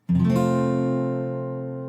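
A single full barre chord strummed on guitar with all strings ringing, a sharp attack followed by a long, clear, bright sustain that slowly fades, heard alone.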